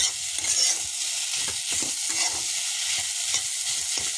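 Shredded cabbage fries in a pan under a steady sizzle while a spoon scrapes and stirs it in repeated rhythmic strokes, close and clear, with no talking.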